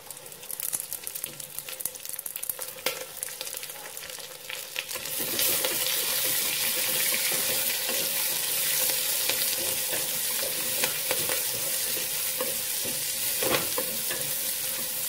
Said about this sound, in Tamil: இதை நல்லா வதங்கட்டும் வெங்காயம் வதங்கிடுச்சு